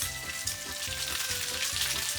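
Udon noodles and minced garlic fry in a hot pan, giving a steady crackling sizzle with light stirring scrapes at a regular pulse, close and moderately quiet, with no voices.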